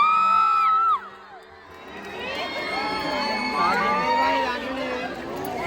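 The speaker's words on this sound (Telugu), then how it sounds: "సింహం అలా నడుస్తుంటే ఎంతలా అరుస్తున్నారో అందరూ." Zoo visitors and children at Hyderabad's Nehru Zoological Park shout and cheer as a lion walks past, a busy crowd of excited yells and chatter after a brief talking voice at the start.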